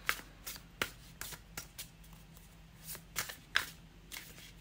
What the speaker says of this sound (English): Let's shuffle this again.